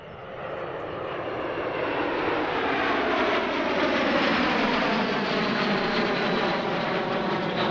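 Aerobatic display team aircraft pass at an airshow in Sichuan, a broad roaring engine drone that swells and holds loud, with a slowly shifting pitch as the planes fly by.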